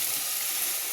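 Water poured into spice paste frying in a pan sets off a steady, close hiss of sizzling that holds evenly throughout, with no voices.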